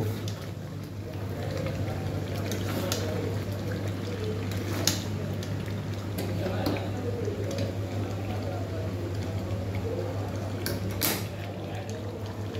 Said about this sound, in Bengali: এবার আলু দিয়ে জল দিয়ে দেব।